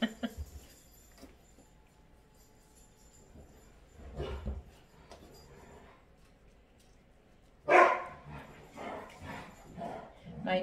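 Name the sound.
dogs playing and barking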